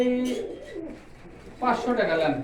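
Soft pigeon coos rise and fall in short phrases at a pigeon market, with a second louder burst of cooing near the end, fairly close.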